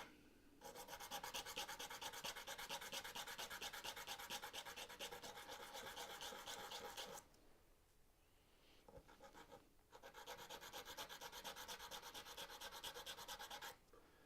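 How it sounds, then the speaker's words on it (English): Sandpaper rubbing the end of a wooden drawer stem during finger joint box work, a steady close-up rasping scrape in long back-and-forth strokes, pausing briefly midway before resuming. "Just with a little bit of sandpaper."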